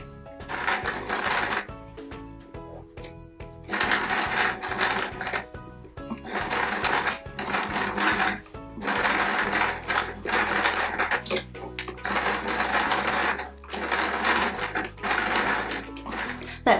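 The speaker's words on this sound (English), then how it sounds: "So my sewing machine's all set up and I'm ready to go" A sewing machine runs in repeated bursts of rapid mechanical stitching around quilt patchwork leaves, pausing briefly between runs, close and fairly loud.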